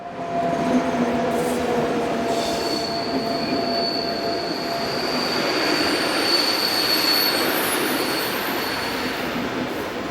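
A passenger train from Ljubljana to Dubova, hauled by locomotive 541002 with 363028 dead in tow, rolls past steadily with a continuous rumble and thin, high wheel squeal. No one speaks.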